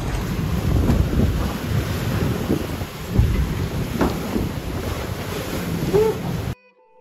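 Strong wind roars across the microphone over rushing, splashing water aboard an ORC 57 multihull sailing fast in a regatta, a steady loud blustery wash with occasional heavier gusts and thumps.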